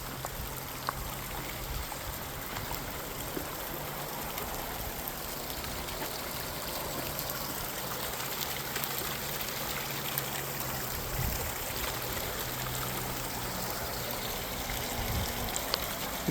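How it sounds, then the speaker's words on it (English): Stream water rushes and trickles around rocks along a mountain trail in a valley, a steady broadband wash heard close and continuous with no talking. "Water just going down around those rocks."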